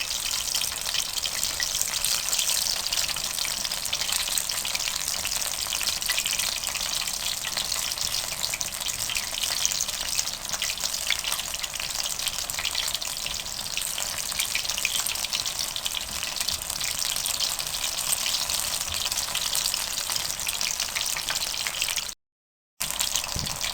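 Steady, dense sizzling of spicy herb pakoras deep frying in hot oil, a continuous crackling hiss that stays even throughout with no voices.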